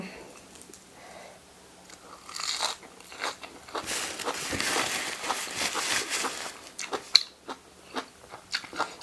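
Close-up crunchy biting and chewing of a spicy Thai salad of glass noodles, fish balls and egg, with repeated crisp crunches and wet mouth sounds in an irregular rhythm, loud and near with no talking.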